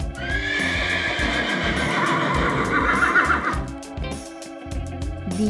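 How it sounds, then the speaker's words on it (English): A horse gives a loud, long whinny that falls in pitch over hoof clip-clops, then the neigh fades and the hooves carry on alone. "The horse is running fast."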